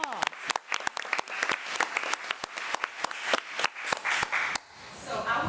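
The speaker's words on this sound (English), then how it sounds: "Let's give Marissa another round of applause." A school board meeting audience applauds a student, giving a sparse round of individual, distinct claps, close and fairly quiet, with a few voices mixed in before it fades out.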